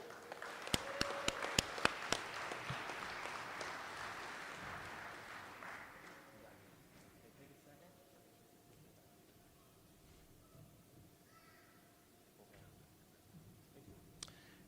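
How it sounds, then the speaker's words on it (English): A graduate is applauded at an apprenticeship graduation ceremony. A few crisp claps stand out over a softer crowd clapping that fades within about six seconds into a quiet room, with one last clap near the end. "get a round of applause for Adam Schwinn"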